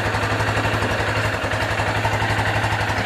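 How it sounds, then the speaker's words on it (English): Yamaha Fino scooter engine held at a steady high rev with its drive chain spinning, a loud, even, rapidly pulsing drone throughout with no pauses. "I had to get Mimi to rev the engine up to get the chain spinning"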